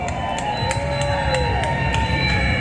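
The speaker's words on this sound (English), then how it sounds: "you guys deserve a round of applause" A crowd at an outdoor Manila street festival in the rain cheers and claps continuously, a dense, loud wash of voices with rhythmic clapping running through it.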